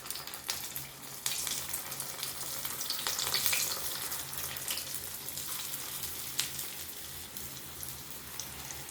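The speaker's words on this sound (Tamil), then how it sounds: "நம்ம இப்போ குட்டி குட்டி போண்டாவாக சுட்டு எடுத்துக்கலாம்." Small rice-flour bondas frying in hot oil give a steady, close bubbling sizzle with crackly spikes throughout, no voices.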